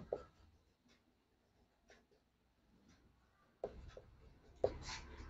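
Pen writing on paper while working a physics density problem, with faint scratchy strokes and soft taps, quiet and close, and a couple of louder bumps near the end.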